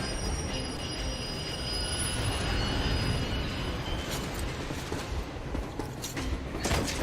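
A train in the video game Metro Exodus rolls past loudly, with a continuous heavy rumble of rail wheels, high squealing tones and a few clanks near the end.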